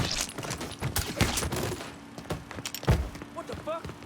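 Rapid bursts of gunfire from the Mafia 3 video game crack out in uneven volleys, mixed with shouting voices and thuds.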